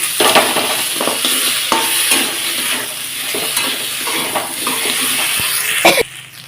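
Ginger, garlic and green chili paste frying in a pan while being stirred, a loud continuous sizzle broken by repeated scraping strokes of a spatula, with a cough-like sound near the start, up close.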